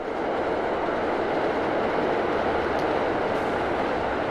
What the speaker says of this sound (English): There go the train past.